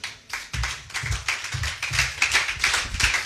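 A church congregation claps together in steady rhythm, about two beats per second, loud and close, with no speech over it.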